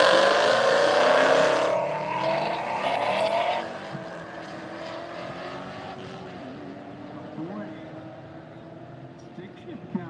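Drag racing cars, an 01 Ford Mustang and a stick-shift BMW, roar loudly at the start of a run and then fade into a softer, distant engine drone with an announcer talking over it.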